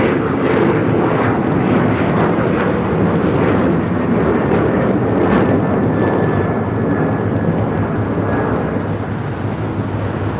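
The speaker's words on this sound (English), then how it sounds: "This is American Airlines 1257 taking off to Charlotte on a 737-800." An American Airlines Boeing 737-800 taking off from LAX, a loud sustained jet roar with deep rumble and a thin rising whine, continuous for the whole stretch and slightly fading near the end.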